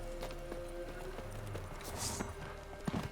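A horse in The Witcher 3 video game clip-clops along in a steady walking rhythm, faint and close, with light background ambience and an occasional brief bright noise.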